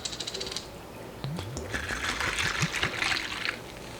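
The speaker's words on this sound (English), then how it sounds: "You top it with seltzer water" Seltzer water pours and fizzes over cold brew coffee in a glass, a bubbly trickling splash that builds into a steady hissing fizz lasting a few seconds, close and alone.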